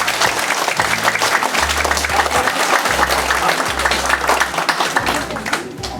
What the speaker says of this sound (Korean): 감사의 박수 한번 부탁드리겠습니다